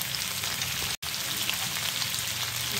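Potatoes and mixed vegetables sizzle steadily in a hot pan with a little sugar added, a close, even crackle of frying that cuts out for a split second and then carries on.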